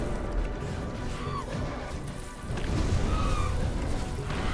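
Heavy smashing impacts as a boss is hammered into the ground in the Skyforge video game, dense crashing thuds and booms with whooshes, one burst swelling louder near the end.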